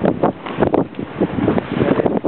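Wind of about 18 to 19 knots gusting across the harbour guard at Harwich, buffeting the microphone with steady, loud rumbling bursts and no voices.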